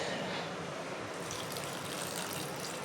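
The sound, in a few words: water being poured into cut ingredients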